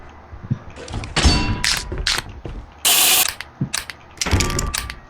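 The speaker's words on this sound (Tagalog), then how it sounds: "Yung narinig mo na trap." Mechanical trap triggering in the video game Lethal Company: a run of ratcheting, gear-like clanks and clicks with a loud burst of metallic grinding midway, close and fairly loud, no talk over it.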